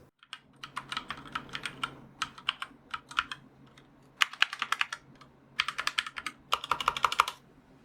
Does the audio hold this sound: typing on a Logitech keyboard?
yes